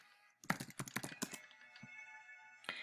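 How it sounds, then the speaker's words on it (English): Short, quiet burst of rapid keystrokes on a computer keyboard while typing a search, a quick patter of clicks heard alone at close range. "Now, if we type in Michael Jordan,"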